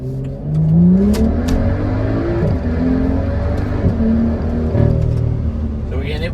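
A BMW 135i with flashed tuning software revving in first gear toward its maximum RPM limit, a loud, sustained engine drone with rising and shifting pitch heard from inside the car.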